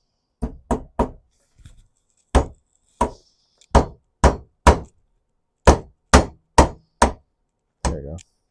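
Regular hammer strikes fold over the head of a garden tool, done with an ordinary hammer rather than a ball peen. About a dozen sharp, loud knocks come in quick bursts of two or three, with short pauses between them.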